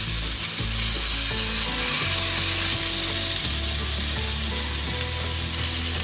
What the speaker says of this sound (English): Next I'm going to add in the pineapple pieces in here.